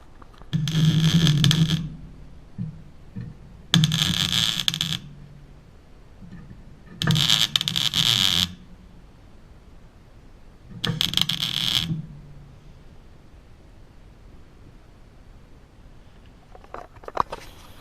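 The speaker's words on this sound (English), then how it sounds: "So I'm going to go ahead and hit it with the final weld" A Phatmoto motorbike exhaust pipe is welded in four separate bursts of harsh buzzing crackle, each lasting about one to two seconds, with quiet pauses in between and a faint clink near the end.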